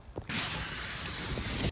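A Rhino Rack awning slides along its metal mounting channel in one continuous scraping rasp lasting over a second, close and fairly quiet, after a couple of short knocks as it is fed in.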